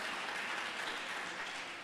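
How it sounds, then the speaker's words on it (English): Brief, even applause at a chapter gathering, a faint continuous patter of many hands with no voices over it. "We appreciate a round of applause for everyone that has responded."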